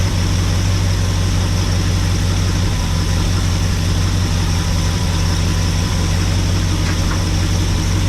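A 1974 Ford Dentside truck's big block 390 FE V8, running badly, idles loud and steady with a deep, even rumble that holds constant throughout, at about 680 RPM.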